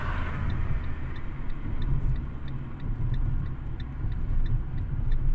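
A car on a driving lesson coasting as the driver lifts off the gas: a low, steady rumble of the engine and road noise easing along, with faint ticking clicks above, no talk.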